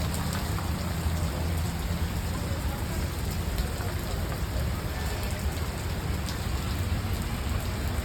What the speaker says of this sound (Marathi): पाऊस बघा असला लागला आहे पाऊस काय थांबाचा नाव नाही घेत